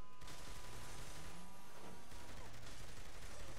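Gunfire in the video game Saints Row the Third, rapid bursts of shots in a busy scene, fairly faint and mixed with continuous game noise.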